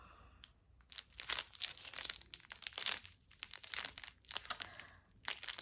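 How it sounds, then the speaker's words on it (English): Paper packets of diamond painting drills crinkle and rustle loudly up close, making sharp, uneven bursts of crackling as they are handled and shuffled, with a few brief quiet gaps and no talking. "They're in these paper things and it makes a ton of noise."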